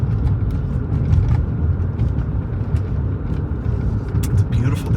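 A Lexus LS 400 drives through city streets, with a steady low road rumble and engine hum heard from inside the car, constant and fairly loud throughout.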